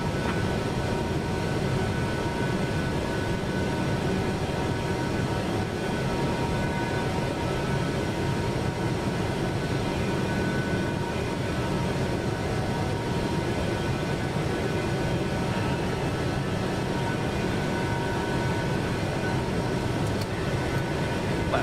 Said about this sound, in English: let me get better control of this airplane before we put the autopilot on